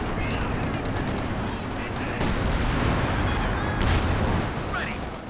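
Jagdpanzer tank destroyer firing at a Sherman amid Company of Heroes 2 battle action, dense rattling gunfire and booming shots over a loud, busy wartime soundscape with talk over it.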